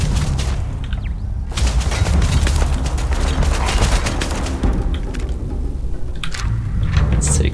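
Turret gunfire in the sci-fi video game Starfield: dense, sustained bursts of shots and booms, loud and continuous throughout, with brief pauses and some scattered mechanical clatter.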